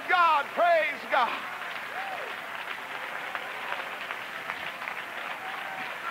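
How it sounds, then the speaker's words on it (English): A church congregation at a 1987 service gives a burst of hand clapping in praise, loud at first and then thinning to scattered claps. Enthusiastic voices and shouts rise over the room throughout. "give the Lord another hand clap of praise tonight"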